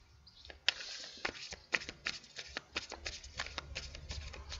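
Tarot cards are shuffled by hand, a run of quick, soft, papery riffles and taps, close and quiet, with no talking.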